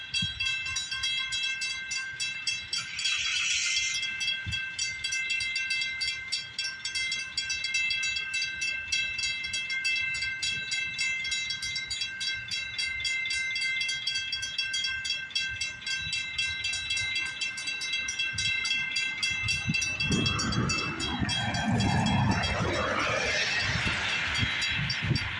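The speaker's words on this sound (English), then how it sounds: "Yep, that's our freight train." A freight train rumbles past with a steady rhythmic clatter of wheels and a tonal whine, growing rougher and louder near the end.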